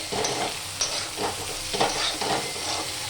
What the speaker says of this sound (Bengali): এই যে ভাত ভাজা কিন্তু হয়ে গেছে